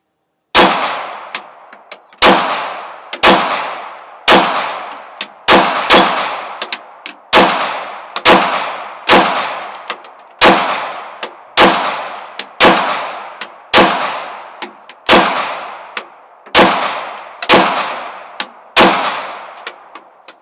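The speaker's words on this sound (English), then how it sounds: "let's just see how this Glock 17 feels and shoots." A Glock 17 pistol fires about sixteen evenly spaced single shots, each a loud, sharp crack with a ringing tail, close up and with no talk.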